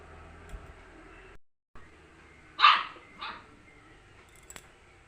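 A pet dog shut behind a closed door gives a couple of sharp barks, a loud one followed by a softer second, muffled and fairly close in a quiet room.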